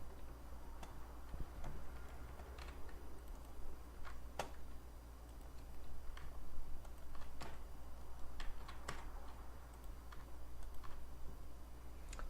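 A computer mouse clicks while the Alt key is held, giving faint, sharp, isolated clicks spaced irregularly over a steady low hum, with no voices.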